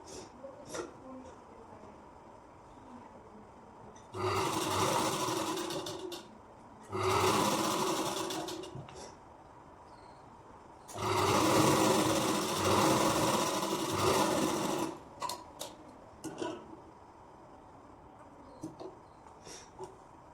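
A sewing machine stitching a blouse seam runs in three close bursts of rapid mechanical whirring, separated by quiet pauses filled with small clicks and handling sounds.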